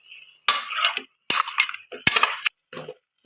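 Mutton being mixed in a cooking pot, several bursts of a spoon scraping and clinking against metal with stirring shuffles between brief pauses, close and clear.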